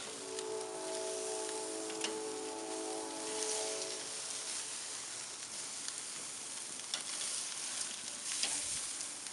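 Pork steaks sear on a grill with a steady, dense sizzle that holds level throughout, close and continuous, with a few faint ticks and a brief tonal hum early on.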